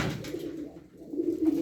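Pigeons coo softly nearby in low, throaty murmurs, a short rolling call with no other sounds around it.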